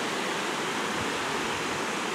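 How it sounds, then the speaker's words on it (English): Brown creek water rushes fast after rain, a dense, constant, close roar of flowing water with no voices. "look how much water is flowing and it's all brown"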